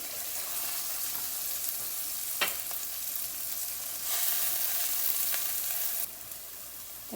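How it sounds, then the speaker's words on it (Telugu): Tomato and ridge gourd fry in a pan with a steady, close hiss of sizzling oil, marked by occasional sharp stirring scrapes and a brief louder surge midway; no voices. "టొమాటో అండ్ బీరకాయ చూసారు కదా ఎంత మంచిగా రెడ్గా ఫ్రై చేసేసుకున్నాను"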